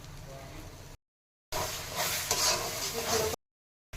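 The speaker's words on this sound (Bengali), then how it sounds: "এবার মশলাটা একটু ভাজা ভাজা হয়ে গেছে" Spice masala fries in a pan for malai paneer, seasoned with chili powder after cashews were fried; a steady hiss and stirring scrape that breaks off briefly twice, louder and busier in the middle stretch.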